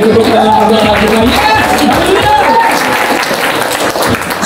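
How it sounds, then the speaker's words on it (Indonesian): A church congregation claps loudly during a sermon, dense overlapping applause with voices calling out over it, tapering slightly toward the end. "Kita beri tepuk tangan Tuhan."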